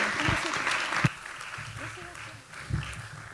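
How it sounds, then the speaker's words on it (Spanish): Warm applause for the presenters at the close of an autism law talk, a wash of audience clapping with voices talking over it and some low thumps, moderately loud. "Entonces brindamos otro caluroso aplauso para los expositores."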